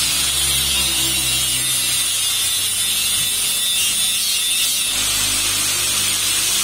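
Angle grinder cutting an axle, a loud, continuous, harsh hissing whine that stays steady and close throughout with no talking.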